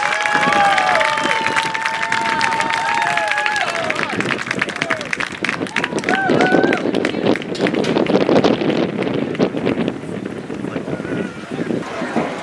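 Outdoor applause from a crowd for varsity football seniors and their parents at a high school field, broad and sustained clapping under wind noise, with cheers and voices mixed in over about twelve seconds.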